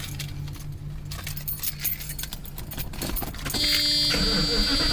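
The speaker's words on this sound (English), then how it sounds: "So let's first see if the car will start." A 1995 Mercedes-Benz W140 S500 is started: keys jangle and rattle first, then the engine catches and settles into a steady idle near the microphone.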